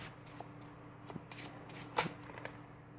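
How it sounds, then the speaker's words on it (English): Cards being shuffled close by, with a series of soft riffling flutters and light slaps at a quiet level, no voices. "I'm not the best at shuffling cards"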